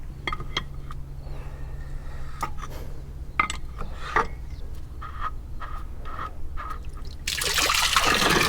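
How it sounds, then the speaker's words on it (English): Water, then oil, trickles and drips steadily at close range from a tractor being drained, with scattered metallic taps, ending in a louder gushing rush. "I gotta drain the oil out of it."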